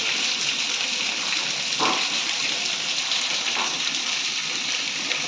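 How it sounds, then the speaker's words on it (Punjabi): Heavy rain pours down in Kapurthala, Punjab, with floodwater flowing: a steady, dense, close hiss of rainfall and rushing water that holds at an even level throughout. "ਬਹੁਤ ਜ਼ਿਆਦਾ ਮੀਂਹ ਹੈ"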